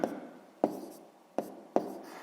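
A hand writes math answers on paper: four distinct quick scratchy pen strokes spaced roughly evenly, close and fairly quiet, with no talking.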